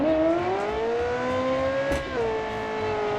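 Video game car fitted with a limited slip differential and 20mm wider rear tires, its engine droning steadily with a rising then dipping pitch as it drives, heard alone and fairly close throughout.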